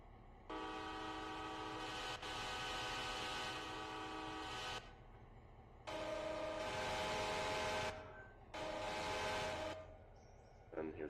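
Several long, loud diesel locomotive horn blasts from a Railroader video game, with two separate shorter blasts following the first, all chord-like and steady, with no talking.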